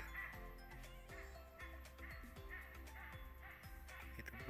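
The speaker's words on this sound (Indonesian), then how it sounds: "Itu burung rangkok" Hornbill in a mangrove forest giving a series of harsh, croaking calls, heard faint and distant over a dense background of insects and other forest sounds.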